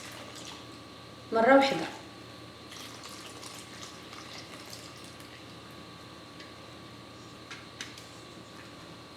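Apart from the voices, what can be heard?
pouring warm water into pizza dough mix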